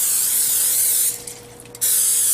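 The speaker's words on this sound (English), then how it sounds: "the 2 9-inch pans that will now be greased with Costco's very own Kirkland Signature cooking spray" A steady hissing spray of Kirkland Signature cooking spray greasing two 9-inch cake pans runs nearly continuously, with a brief pause, close and fairly loud.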